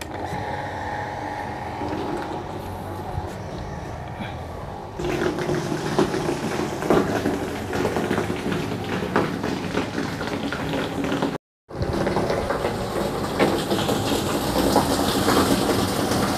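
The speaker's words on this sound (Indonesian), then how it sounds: "sekarang pompa akan saya nyalakan" An electric water pump is switched on and runs with a loud, steady mechanical hum and the rush of flowing water close by, broken once by a brief dropout, with no talking.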